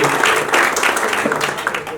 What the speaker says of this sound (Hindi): स्वामी जी का जोरदार तालियों से स्वागत करें